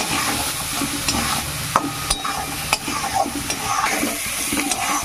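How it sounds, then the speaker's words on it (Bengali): Fried chickpeas are stirred with salt, turmeric and cumin powder in a pan, a steady sizzle under repeated scraping strokes of a spatula and a few sharp clinks against the metal. "এবার মশলাগুলো ছোলার সঙ্গে ভালো করে মিশিয়ে নেব।"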